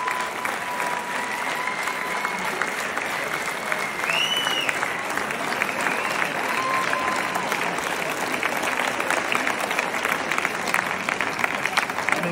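A large outdoor premiere crowd in Berlin for The Smashing Machine claps continuously, with cheers, whistles and shouts mixed into a steady wash of applause that holds even throughout.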